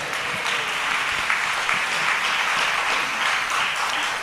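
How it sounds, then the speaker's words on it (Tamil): A church congregation breaks into steady, dense applause, many hands clapping together in a continuous wash that holds at full strength throughout. "நல்லா ஒரு கைதட்டு கொடுங்க"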